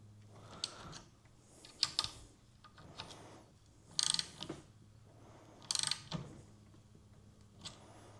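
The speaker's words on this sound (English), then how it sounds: "go ahead and start tightening. These are 1/2-inch screws." Half-inch screws on an AR rifle scope mount are tightened with a ratcheting tool. Quiet clicking bursts of ratchet action recur several times amid soft mechanical creaks and handling noise.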